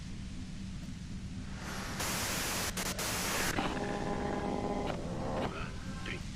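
Radio static in the Disco Elysium video game, a rushing hiss that swells loudly for a couple of seconds, then settles back under faint tonal chirps and a low background hum.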